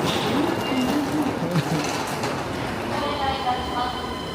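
A Skyliner train at a station in Ueno, Tokyo, gives a steady rumbling rail noise with faint squeals and clunks, close and continuous, while voices talk nearby.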